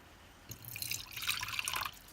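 Water poured from a jug into a baby blue tongue lizard's water bowl, a steady splashing trickle that starts after a brief pause and runs close and alone to the end.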